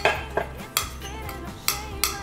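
A metal utensil stirs ginger scallion sauce of soy, oyster sauce, garlic and sugar in a pot, giving several sharp clinks and scrapes against the side, close and fairly quiet.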